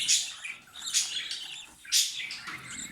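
Young birds about 26 to 27 days old chirp and squawk in an aviary, a few bright calls in short bursts, fairly close but soft, with no talk.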